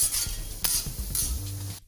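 Matri dough discs fry in hot oil in a pan while being stirred, giving a close, steady sizzle broken by scraping and clinking strokes of a utensil, ending abruptly.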